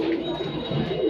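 Pigeons in a cage at a pigeon market give soft, close, low cooing, rising and falling in a continuous murmur.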